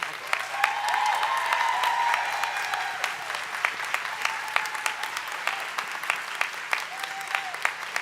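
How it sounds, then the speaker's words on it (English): A large graduate commencement crowd gives a sustained round of applause for the rising college faculty, dense clapping that swells early and continues evenly, with faint voices mixed in. "thank you and honor you with a great round of applause"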